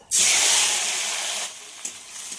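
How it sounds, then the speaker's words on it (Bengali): Chopped tomatoes hit hot oil seasoned with dried red chilli and five-spice, bursting into a loud, bright sizzle that settles into steady frying hiss, with a couple of small pops near the end. "টমেটো দিয়ে খুব ভালোভাবে ভাজতে হবে, ভাজতে ভাজতেই টমেটো একেবারে গলে যাবে।"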